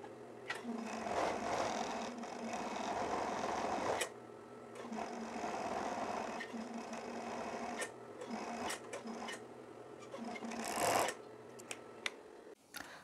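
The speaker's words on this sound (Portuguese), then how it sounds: "Então eu vou fazer o acabamento na overlock" An overlock serger runs steadily, finishing the edge of a women's plaid shirt, with a continuous close mechanical whir that pauses briefly near four seconds and ends in a few short bursts near the finish.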